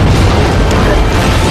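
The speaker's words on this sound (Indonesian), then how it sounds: "Akhirnya granat meledak" A grenade explodes in a film scene, a loud, dense roar of blast and rumble filling the whole moment with no break.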